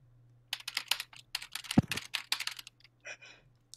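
Rapid keyboard typing, a dense run of sharp clicks and clacks in quick bursts with short pauses, close by and fairly loud.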